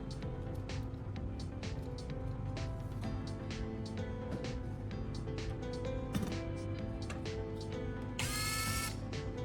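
A handheld electric drill whirs continuously, spinning a carbon rod against sandpaper. A steady motor drone runs with gritty scraping and short rasping bursts, ending in a brighter grinding burst.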